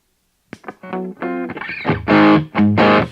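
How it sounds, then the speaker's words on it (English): Electric guitar on the bridge pickup in humbucking mode, played through a Copper Drive distortion pedal, strums loud driven chords and a few notes, thick and saturated, with no talking. "It's going to push that front end of that pedal that I've just turned on, the copper drive."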